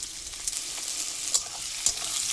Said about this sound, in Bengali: এখানে এটা ভাজা ভাজা হতে থাক